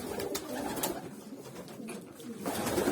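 Hünkari (Ottoman palace) pigeons coo softly among a busy wash of bird noise, the low throaty calls repeating close by with no talking.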